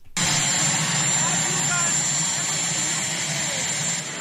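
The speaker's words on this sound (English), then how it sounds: "you're going to catch the helicopter, so it's going to be just a bit loud at first" A helicopter's loud, steady engine roar starts abruptly and holds at constant strength with a faint high whine on top, then eases slightly at the end.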